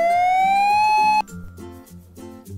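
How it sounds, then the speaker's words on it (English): An ambulance siren responding to an emergency wails in a loud rising sweep, then switches abruptly to a quicker pulsing pattern under a busy musical backing. "It looks like this ambulance is responding to an emergency."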